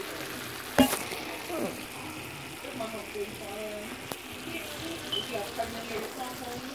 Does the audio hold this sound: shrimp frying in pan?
yes